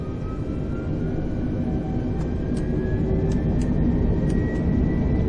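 Airliner jet engines in Microsoft Flight Simulator, with FlyByWire and Neo, spool toward takeoff power on the runway: a steady, loud broadband roar with a rising whine that swells gradually across the clip, with no voices.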